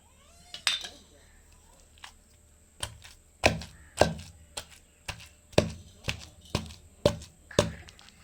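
Peanut chutney with onions being pounded by hand, a series of sharp, fairly regular thuds at close range, roughly one per half second, with faint voice sounds between strikes.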